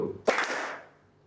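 A single sharp clap rings out in a classroom as students answer the teacher's call, a bright crack with a short decaying echo that fades over about a second.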